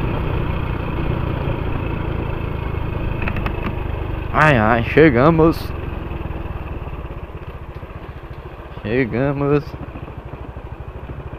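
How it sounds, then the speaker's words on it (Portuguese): A Honda Pop 110i motorcycle idles with an unusual, uneven engine noise under a steady drone, while people talk over it in two short bursts. "Olha a Honda ali, tá com barulho estranho a moto"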